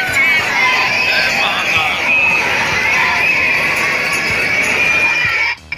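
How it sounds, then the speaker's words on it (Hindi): A dense, pushing crowd inside Mahakal temple fills the space with loud, continuous babble, shouts and cheering voices, steady throughout before cutting off abruptly at the end. "आप देख ही सकते हैं कि कितनी ज़्यादा भीड़ है, कितनी ज़्यादा धक्का मुक्की हो रही थी मंदिर में"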